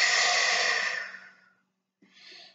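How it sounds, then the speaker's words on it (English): A person breathes out long and deep in a slow, airy rush that fades away, and after a short silence a softer breath begins, close and quiet with no talk. "Breathe in and breathe out"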